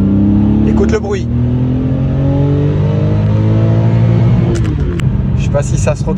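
A Porsche 993 RSR engine running and revving close by, a loud rumbling idle rising and falling through several throttle blips, with a person talking over it.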